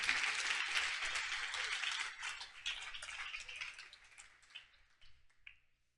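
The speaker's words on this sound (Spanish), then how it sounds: "Dale un fuerte aplauso a Dios." A church congregation applauding, a dense burst of clapping that gradually thins and fades out over several seconds, somewhat distant and soft.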